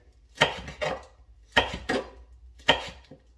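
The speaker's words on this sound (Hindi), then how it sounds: "ये जनाब बारीक से मिर्चें काट लें" A knife chops green chillies finely on a board in a home kitchen. Three short bursts of rapid, crisp strikes ring out close and clear, separated by brief pauses.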